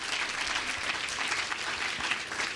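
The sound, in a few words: audience applauding after a lecture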